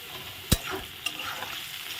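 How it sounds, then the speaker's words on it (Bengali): Potatoes frying in a pan with soft sizzling, broken by a sharp scrape of the stir at the start and a lighter knock after, close and alone. "আলুগুলো সুন্দর করে ভেজে নিই।"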